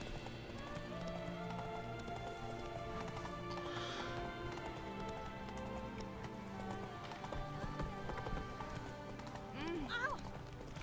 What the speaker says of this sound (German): Ich kann zum Glück einfach den Berg hoch reiten.